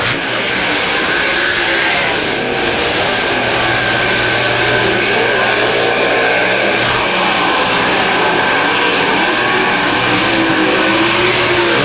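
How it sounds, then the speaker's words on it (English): A race car engine roars steadily around a dirt track at a Kansas short-track race, loud and continuous with sustained revving throughout and only faint crowd ambience beneath. "He'll set the car in turn number 3 to the top side and out of turn number 4, Jay Russell."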